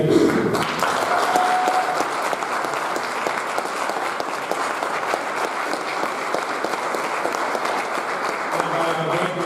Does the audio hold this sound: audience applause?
yes